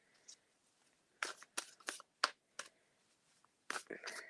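Oracle cards being shuffled close up, a series of sharp papery riffles and slaps in irregular bursts with quiet gaps between them.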